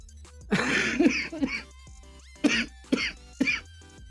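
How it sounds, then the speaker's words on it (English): Several harsh, raspy coughs come in bursts, a long fit followed by three shorter separate coughs, close and loud against quiet background. "I hate how hoarse that cough sounds"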